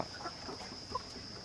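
Faint clucks from 18-week-old Hisex Brown laying hens, a few soft calls over a quiet steady background hiss.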